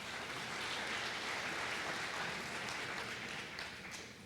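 An audience applauds for Anne at a Becker College presentation, with steady broadband clapping that holds at a moderate level for about four seconds and eases slightly near the end.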